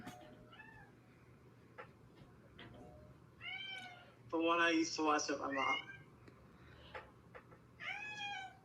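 A pet cat meows several times in short, drawn-out cries, loudest in a rapid cluster midway, while someone talks over and between the meows nearby.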